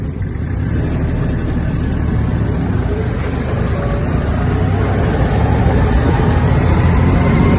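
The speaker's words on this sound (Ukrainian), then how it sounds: "На повищених передачах ось така швидкість трактора." A Japanese Kubota KL-2450 Hi-speed mini tractor runs in high gear, its engine giving a loud, continuous drone with no break and no voices.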